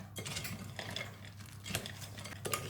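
A spoon scrapes and clinks through a dry mix of grains in a bowl for baked crunchy low-sugar grain bars, with repeated close stirring strokes and light knocks against the sides, and no voices.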